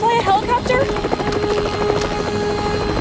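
A helicopter hums and thrums steadily through a scene in the film Jurassic World, its rotor buzz running continuously under voices and rising musical tones.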